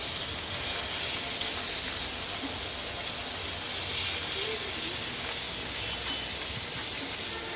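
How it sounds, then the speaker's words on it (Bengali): Rohu fish fillets and spices sizzle in a frying pan, a steady broadband hiss of hot oil spitting continuously, close and fairly loud, with no voices. "আমি মশলাটা ভালো করে কষিয়ে নিচ্ছি"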